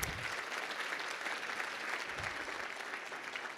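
A symposium audience claps steadily for a few seconds, a fairly soft, even wash of applause heard from within the hall with no talking over it.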